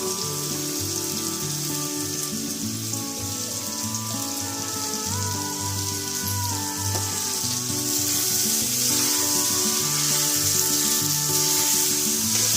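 Onion sizzling in a pan for a spicy prawn masala, a continuous close frying hiss under music-like tonal background, steady throughout.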